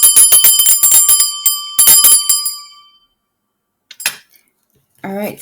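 A small hand bell rung during a tarot reading with a Wonderland deck, in a rapid series of bright metallic strikes for about three seconds that ring out and fade, followed by silence and brief faint sounds.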